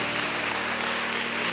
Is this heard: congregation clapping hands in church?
yes